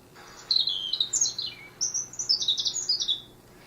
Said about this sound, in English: it'll play the bird's call